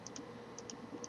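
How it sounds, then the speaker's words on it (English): Quick, light mouse clicks while playing the computer game Yoda Stories, short crisp taps arriving in irregular pairs, close and fairly faint. "The clicking sounds are so funny, like so frantic"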